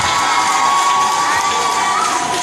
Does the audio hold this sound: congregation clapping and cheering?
yes